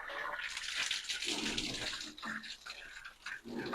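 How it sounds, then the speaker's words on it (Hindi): Water gushes steadily from a steamer's plumbing pipe fitting in a fairly quiet, continuous hissing rush with soft splashing, heard alone. "ये भी स्टीमर का ही पानी है, इसको चेक कर सकते हो आप।"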